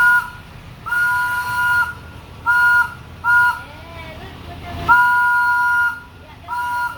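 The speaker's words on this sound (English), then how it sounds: "gonna blow the whistle of the train real quick." The train at Disney's Animal Kingdom sounds its whistle in a series of loud two-tone blasts, short ones and then longer ones, close by with a clank in between and brief voices nearby.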